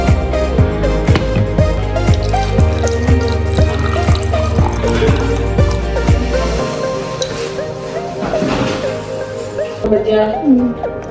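Coffee is poured with caramel syrup, giving a close trickling and dripping of liquid over a steady background with a voice present, before the flow fades toward the end.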